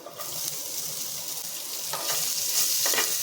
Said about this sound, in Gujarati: ડુંગળીને આપણે એકદમ સરસ રીતે અહીંયા સાતળી લઈશું